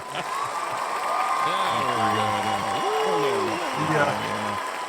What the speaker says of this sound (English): They clap, laugh, and then cheer.